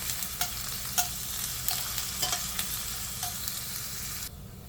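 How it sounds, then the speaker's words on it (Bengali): Onions crackle and sizzle as they fry in a pan, with regular sharp scrapes and clinks of a spatula stirring them over the hiss, until the sound stops abruptly near the end. "পেঁয়াজটা ভাজা হয়ে গেছে"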